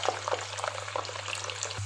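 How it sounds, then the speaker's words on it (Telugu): Garlic sizzles in hot tempering oil with cumin and mustard seeds for a mango pickle, a close, quiet crackling fry with scattered pops over a low steady hum. "తాలింపులో ఎల్లిపాయలు కూడా వేయాలి"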